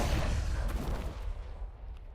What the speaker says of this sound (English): And the beacon exploded.